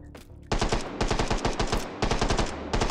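Rapid automatic gunfire in the VR shooter Hot Dogs, Horseshoes & Hand Grenades, with loud close bursts of quick shots broken by brief pauses.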